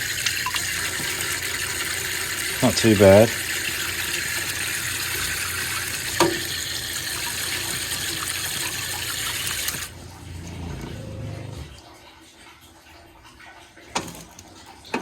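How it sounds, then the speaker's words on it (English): A water pump pushes water through the shower lines of a DIY off-road caravan with fibreglass composite walls. A steady, loud rushing flow with brief bumps runs for about ten seconds, then drops to a faint residual hiss, with a short voice near the end. "So that's pump flow."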